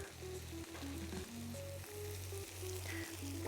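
Grated Parmesan cheese frying in a pan to make crispy cheese baskets, giving a steady, soft, continuous sizzle with a faint background hum throughout.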